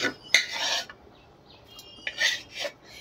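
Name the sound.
spatula scraping an old iron wok while lifting out greens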